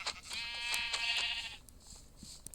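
A Minecraft sheep gives one wavering, nasal bleat lasting over a second, fairly clear, followed by a few faint clicks and quiet game sounds.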